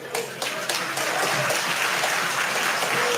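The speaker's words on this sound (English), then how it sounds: "Why are you clapping?" Clapping in a parliament chamber, a loud, dense burst of many hands that builds after the first second and holds steady, close and continuous with no clear speech over it.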